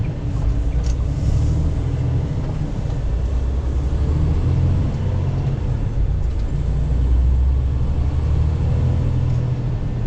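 Steady low engine rumble and road drone from inside a moving truck cab, continuous and even for the whole stretch, with no talking.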